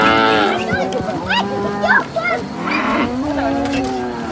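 A calf lowing among Himba herders in Africa, several drawn-out moos rising and falling in pitch, fairly close and loud, with some human voices faintly mixed in.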